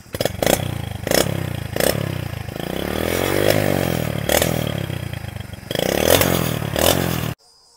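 A Hero Honda Splendor motorcycle fitted with an Old is Gold aftermarket silencer, its engine running loud and close with a steady throaty exhaust note, broken by repeated sharp throttle blips and revs before cutting off abruptly near the end.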